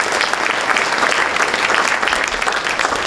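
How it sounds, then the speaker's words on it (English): Audience applause at a book launch about Marie Curie, loud and continuous clapping from a crowd that stays full and even throughout, with no speech over it. "Please give them a round of applause and warmly welcome them."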